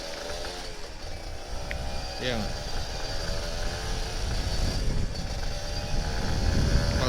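A Kawasaki Ninja RR 150 two-stroke motorcycle rides on a quiet road, its engine droning and rising in pitch as the throttle opens, with wind rumble building toward the end, while the rider talks over it.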